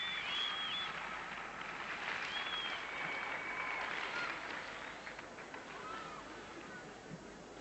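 At a 1994 European women's gymnastics championship, a crowd cheers and applauds a bars routine as a sustained, washy roar. A commentator talks over it throughout, and the noise eases slightly toward the end.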